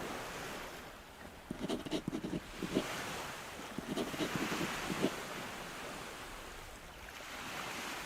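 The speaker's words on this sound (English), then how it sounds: "The small boat the thief prepared beforehand bobs gently on the water." Gentle water laps and sloshes around a small boat bobbing on a quiet bay in the game NieR Re[in]carnation, with soft wind and a few brief splashing pulses, faint and steady.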